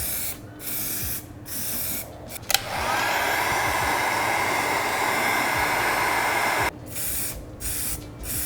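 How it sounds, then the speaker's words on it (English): Heat gun blowing over freshly sprayed primer paint, a steady loud whooshing roar held for several seconds, with brief short bursts of airflow before and after. "I'm going to use the heat gun to help the paint dry faster between the different layers"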